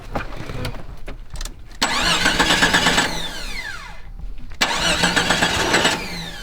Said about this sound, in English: So it starts on the 3rd try, pretty reliably.